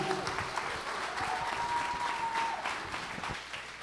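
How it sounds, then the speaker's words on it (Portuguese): Audience applause at a hypnosis show in a Brazilian comedy club, a steady, dense wash of many hands clapping for the hypnotized volunteers, sustained throughout with a faint tone and some voices mixed in. "Uma salva de palmas para os nossos astros."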